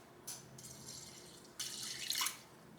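Water poured into a casserole container, two separate splashing pours, the first short and the second longer and building to a louder gurgle before stopping, close but fairly quiet, with no talking during it.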